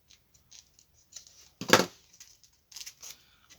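Scissors snip through paper in a few short cuts, with one louder, longer slicing cut in the middle and lighter snips before and after, close and fairly quiet with no talk.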